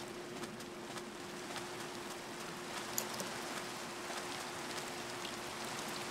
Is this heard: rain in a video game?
yes